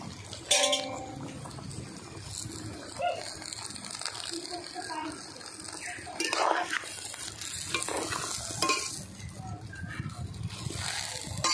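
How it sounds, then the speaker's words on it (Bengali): Greens stirred into boiling curry broth in a home kitchen, with a steady sizzling bubble, scraping stirs and crinkling leaves close up, and a person speaking over it at moments. "ঝোল ফুটে গেছে, এবার শাক দিয়ে দিচ্ছি।"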